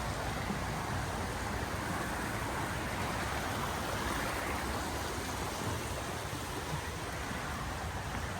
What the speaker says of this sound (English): Crossing Mendon Brook.